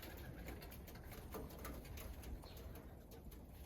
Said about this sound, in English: Oh, look at those pigeons. They have a party there on the 3rd floor.